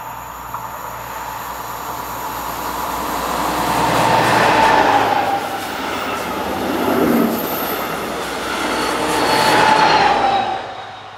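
A passenger train hauled by locomotives 218444 and 218418 rumbles past on a curve west of Weidenbach, Germany, swelling and fading in waves, with wheels squealing against the rails and a clattering of cars.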